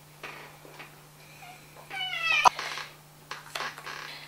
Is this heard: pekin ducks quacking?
no